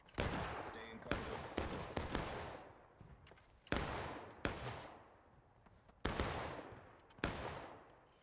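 Gunfire in the multiplayer game War of Rights: about eight sharp shots, spaced irregularly, each with a long reverberant tail, sounding moderately distant.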